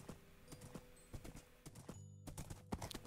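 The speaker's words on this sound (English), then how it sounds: "Man, I love these horses. I love these painted horses too." Painted horses clip-clopping on the ground in Minecraft, a steady run of soft hoof taps over a low game background, with no one talking.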